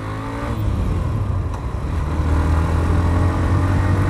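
A Hero Xtreme 125R motorcycle engine runs during a ride, holding a loud, steady drone close up with a brief dip as the throttle is released and then reapplied.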